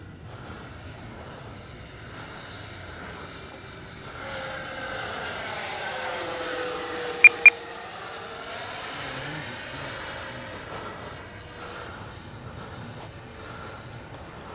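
A Freewing F-14A Tomcat RC jet with twin 64 mm ducted fans flies overhead, its steady whine swelling as it passes nearer midway, then fading, with two sharp brief clicks near the middle.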